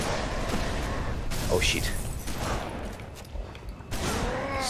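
Gunfire in the video game Halo Reach crackles in bursts and booms at moderate distance, mixed with game mechanisms, while someone speaks and curses over the shooting.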